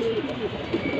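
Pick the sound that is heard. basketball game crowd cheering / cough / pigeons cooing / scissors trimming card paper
pigeons cooing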